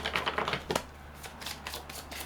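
Tarot cards are shuffled by hand in quick, close riffling bursts, a dense flurry of papery flicks and slaps that pauses briefly and then resumes, heard alone without talk.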